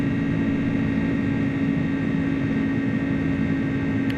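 Pratt & Whitney jet engines of an Airbus A300 at climb power in a flight simulator, a loud steady broadband roar with a strong sustained hum, unchanging throughout and with no talking.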